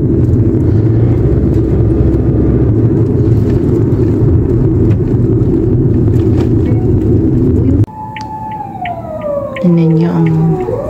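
A car drives through the streets of Naha, Okinawa, with a steady rumbling road and engine noise that cuts off sharply partway through, followed by a wailing siren with sliding tones and a quieter background.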